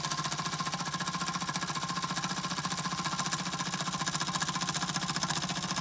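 Century-old Carette overtype toy steam engine running steadily, a fast, even mechanical chuffing and clatter with a faint hum underneath, close and continuous.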